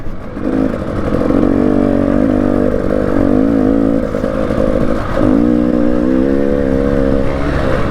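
A 300cc two-stroke enduro motorcycle is ridden off-road at a charity scramble day, its loud, close engine droning steadily with rising and falling revs and a brief dip partway through.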